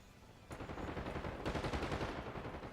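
Rapid automatic rifle fire in the video game Call of Duty: a dense rattling burst that swells and holds steady for a couple of seconds, fairly loud with no voices.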